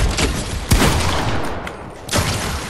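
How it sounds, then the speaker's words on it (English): Bursts of rapid gunfire in an online multiplayer video game crackle loudly in quick succession, with two sharp volleys and a brief lull between them. "Stop shooting at me on the same time."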